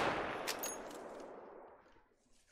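A rifle shot in the hunting game theHunter: Call of the Wild, a sharp loud crack at the start that trails off into a long fading echo.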